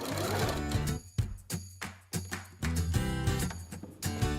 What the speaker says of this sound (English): And then I'm gonna sew 1/4 inch